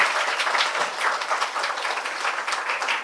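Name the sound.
workshop audience applause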